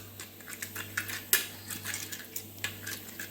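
A spoon stirs spices into thick yogurt for a paneer dish, with quick, close clinks and scrapes against a bowl in an uneven rhythm over a steady low hum.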